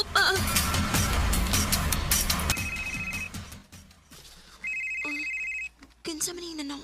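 Telephone ringing in a Cebuano-language audio drama, two short bursts of an electronic trill, moderately loud, between stretches of dramatized dialogue with background music.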